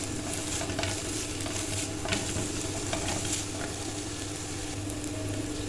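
Onions with chillies sautéing in an oiled pan until translucent, a constant close sizzle with rhythmic scraping and stirring of a spoon against the pan, steady throughout with no talk.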